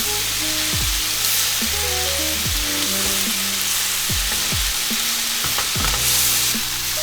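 Food sizzling and caramelizing in a hot pan, a loud continuous hiss broken by repeated scraping and stirring strokes at a loose, irregular rhythm, close up and with no voices.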